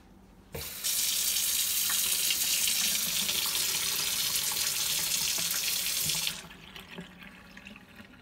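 Water runs from the faucet into a big kitchen sink, a steady, loud hiss that starts abruptly, holds for about six seconds, then cuts off, leaving quiet room noise.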